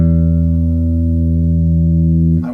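A single guitar pick downstroke on the low sixth string rings out as one loud, sustained low note with steady harmonics, decaying slightly before being cut off near the end.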